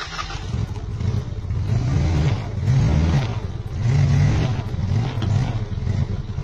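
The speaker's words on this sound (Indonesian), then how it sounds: "Pada saat kita ngegas, itu seperti kayak hilang tenaga sesaat" A motorcycle with a faulty spark plug is revved in repeated surges, about four rising swells where the engine stumbles and hesitates before picking up, heard close and fairly loud.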